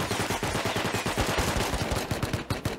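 An automated turret in Rust fires rapid, close bursts of gunfire for nearly three seconds, each shot sharp and evenly spaced, loud and without any talk.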